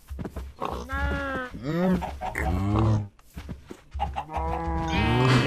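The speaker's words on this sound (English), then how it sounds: "Let's breed some cows first." Minecraft farm animal sounds while cows are being bred in the video game, a series of drawn-out moos and bleats following one another at close range, with no talk.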